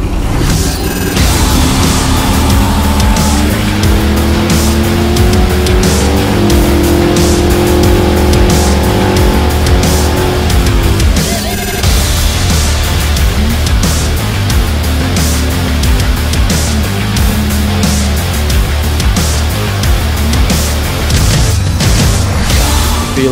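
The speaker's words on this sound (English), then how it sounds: "driving the Ultra 4 car is still on the top of the list" Ultra 4 off-road race car at Trail Creek Raceway, engine roaring loud and continuous with rising and falling revs as it drives hard, no voices.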